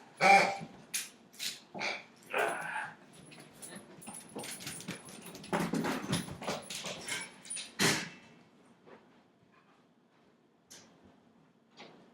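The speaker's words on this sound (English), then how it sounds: "I've got dog issues here." A dog whimpers and whines close by indoors, a run of short high cries over the first several seconds, with thumps and knocks like a door, fading to quiet later.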